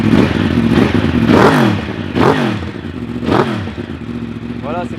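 A 2019 Yamaha R1 track-prepared engine without catalytic converter revs hard in three or four sharp bursts over a steady idle, loud and close, with a voice talking underneath.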